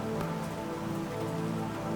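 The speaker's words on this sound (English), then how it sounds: "with the rain whispering against the windows" Steady rain patters and streams against windows at night, a soft continuous wash of droplets that stays even and unbroken throughout, with no voices.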